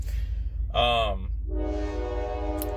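A train sounds its horn twice in Ohio, a short blast followed by a longer sustained one, heard nearby over a low rumble.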